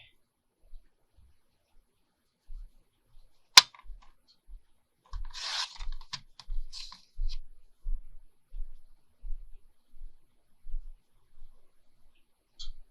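A paper trimmer slicing card for envelope booklets: one sharp snap of the blade, then a burst of scraping slide strokes, followed by a run of soft, evenly spaced taps and thumps, close and quiet with no talking.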